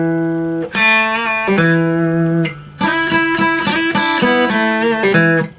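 A blues lick on acoustic guitar mixes open strings, a half-step bend and release, and a pull-off, ringing clear and close as a string of separate plucked notes with no talking.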